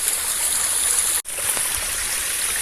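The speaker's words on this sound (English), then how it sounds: "This is the path. It's become a stream." Water rushes along a hiking path that has turned into a stream on the West Highland Way in Scotland, a close, steady broadband burble that continues alone with only a brief cut partway through.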